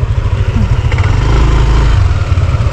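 A motorcycle engine chugs steadily at close range while riding along a muddy track through a cornfield, a low throbbing drone with slight shifts in pitch.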